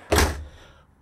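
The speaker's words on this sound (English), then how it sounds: "shut this door behind me" The entry door of a 2003 Holiday Rambler Neptune 36 PBD diesel Class A motorhome swings shut with a single close, heavy thunk that fades into a short resonant tail, with no voices.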